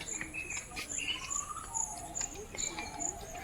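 Wild birds call at Mukundra tiger reserve, with repeated high chirps and thin whistles at moderate distance over steady insect buzz and outdoor ambience.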